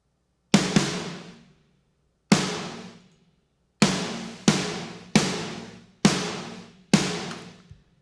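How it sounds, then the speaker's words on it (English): Sampled EZ Drummer 3 snare drum hits dry up with a CLA Room reverb, seven sharp cracks at uneven spacing, each trailing off in a short roomy decay between silences. "my snares with the room sound like this"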